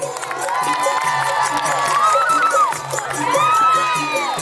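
A lively crowd at a night village youth-organization competition final cheers and shouts for a performing group, with high excited voices and whistles rising and falling in waves, loud and close.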